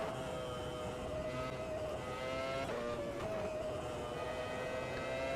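Formula 1 cars racing in the 1997 German Grand Prix in the Automobilista 2 racing game, one car right behind Jarno Trulli's Minardi into turn 1. A steady, high, whining engine roar with shifting pitch runs loud and unbroken throughout.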